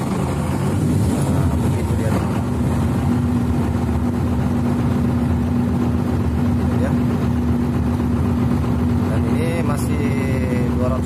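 Engine of a JQS900T bridge launcher on the Jakarta–Bandung high-speed rail project running at a steady idle, a constant mid-pitched hum with a droning tone throughout, while someone talks over it.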